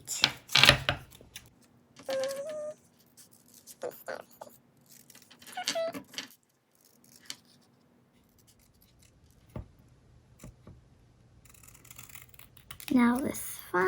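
Scissors snip through paper while cutting out turkey feet for a hand-print craft, short crisp cuts in irregular bursts with pauses between, fairly close, mixed with a voice talking at times.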